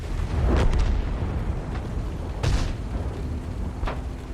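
T-34 tank cannon firing in World of Tanks, heard as three heavy booming blasts spaced a couple of seconds apart over a constant rumbling battle background, with no voices.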